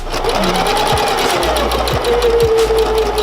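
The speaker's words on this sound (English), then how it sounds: "So I'm just gonna do a really loose stitch through this." A sewing machine runs a loose stitch through fabric, its motor whirring steadily and close for the full length with a few short knocks of the mechanism.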